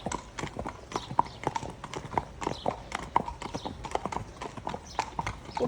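Two horses' hooves clip-clop on the pavement beside a main road on a hack, a brisk, close, overlapping rhythm of hard strikes that runs steadily throughout.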